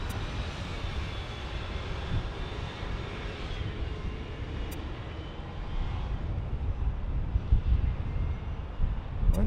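Heavy airliners at LAX airport, a loud continuous jet engine roar with a high whine on top, rumbling steadily and growing slightly toward the end.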